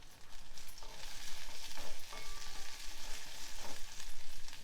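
Tender tamarind leaves and garlic sizzle in a pan for a chutney, a soft, steady frying hiss broken by occasional stirring scrapes, close and fairly quiet with no voices.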